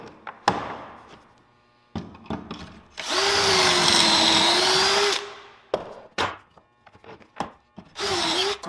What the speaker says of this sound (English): we have all of our pocket holes drilled